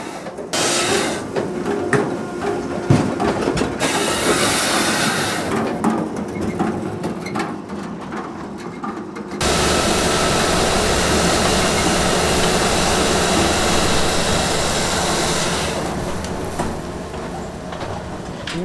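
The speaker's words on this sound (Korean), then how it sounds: "저게 이제 나무를 자르는 거." A firewood processing machine cutting domestic oak logs into 40 cm boiler and fireplace lengths, loud mechanical grinding and whirring that shifts abruptly partway through into a steadier, denser roar before easing off.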